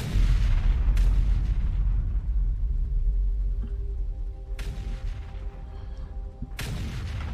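Artillery fires in the video game Factorio as three heavy booms spaced a few seconds apart, each followed by a deep rolling rumble that fades before the next shot.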